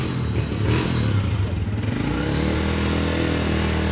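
A 125 motorcycle engine, started in gear, runs with a loud, rough, throbbing rumble that revs and then settles into a steady idle, close by and without clear talk.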